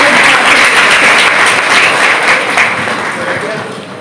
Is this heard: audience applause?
yes